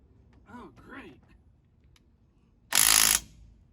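A DeWalt power tool works on a rusted wheel of a 1951 Ford F1 truck, giving one brief, loud mechanical whirring burst of about half a second after some faint talk.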